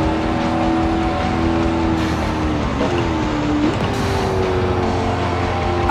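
A car engine runs steadily in the CarX Drift Racing video game, with a loud, constant drone and slight pitch rises as the car accelerates. Nothing else is heard, and the engine fills the whole stretch.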